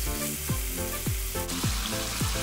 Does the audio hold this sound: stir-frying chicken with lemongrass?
yes